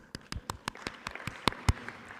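A handful of separate, sparse claps ring out from a conference session audience, about a dozen distinct hand strikes in a loose, uneven rhythm, fairly quiet and close.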